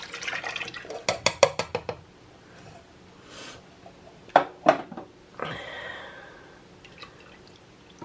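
Canned evaporated milk poured into pumpkin pie filling in a home kitchen: a close run of quick glugging splashes and drips, then a pause before a few more brief pours and a longer trickle. No one speaks.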